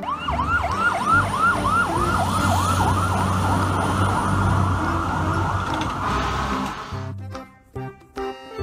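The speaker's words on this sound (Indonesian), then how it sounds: "Mobil truk pemadam kebakaran." A toy fire truck sounds a rapid warbling electronic siren, repeating quick up-down sweeps over a buzzing motor hum, loud and close, then it cuts off into handling clicks.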